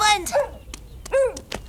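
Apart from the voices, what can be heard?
dog barking in a cartoon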